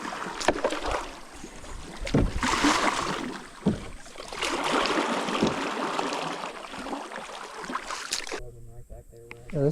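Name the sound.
canoe being paddled on a river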